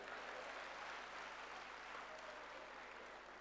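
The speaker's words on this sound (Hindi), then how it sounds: "ये ताली तो ढंग से ही बजनी चाहिए।" Audience clapping at a cultural program during a media conference retreat in Mount Abu, a quiet, even wash of applause that sounds distant and holds at a steady level throughout.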